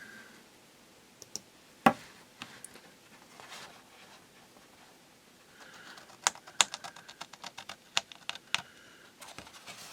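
Scissors snip at close range in a quiet room: a few isolated crisp cuts early on, then a quicker run of sharp, light clicks toward the end.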